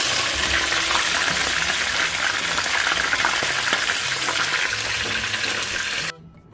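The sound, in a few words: prawns frying in Filippo Berio olive oil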